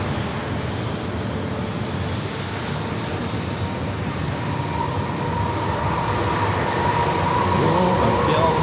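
An airliner takes off at San Diego airport, its jet roar steady and broad, slowly building in loudness over several seconds.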